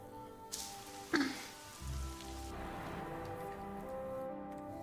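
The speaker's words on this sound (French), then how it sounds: "Il pleut" Rain falls during a Bleach anime scene as a faint, steady patter of drops, with one brief louder knock early on.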